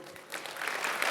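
Keynote audience at the Oktane 2025 conference breaking into applause, a dense wash of clapping that swells after a brief lull and holds steady and fairly close throughout.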